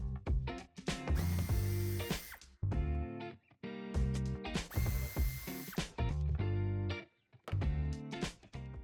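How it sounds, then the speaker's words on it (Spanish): On a 2024 Cupra Tavascan, a power screwdriver backs two screws out of the wheel arch to free the bumper trim. Several loud, close whirring bursts of one to two seconds come with short pauses between them. "no sin antes quitar dos tornillos que lleva en el pase de rueda"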